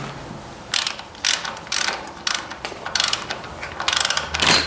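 Repeated ratchet wrench clicks while snugging bolts on a 1944 Ford 2N tractor, joining its rear and front sections; several short bursts of close, loud mechanical ratcheting with brief pauses between strokes.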